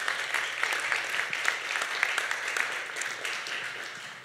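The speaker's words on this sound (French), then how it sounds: "Oui, applaudissez-vous." Audience applause at the closing of a spring cultural workshop event, a dense continuous patter of many hands heard from a distance, steady and moderately quiet throughout.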